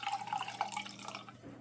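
A sponge dipped in a warm water and white vinegar mix, used for blotting a tea stain on wool mix carpet, gives close, soft dripping and trickling liquid sounds.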